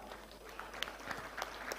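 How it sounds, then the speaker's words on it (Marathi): An audience at a housing lottery draw event claps steadily in a hall, a faint wash of applause with scattered sharper claps and no pause. "जोरदार टाळ्या वाजवा."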